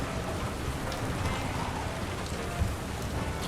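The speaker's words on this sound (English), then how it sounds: "Even the rain graphics look better too." Steady, dense video game rainfall in Splinter Cell Chaos Theory hisses throughout with a soft patter, continuous and even with no voices.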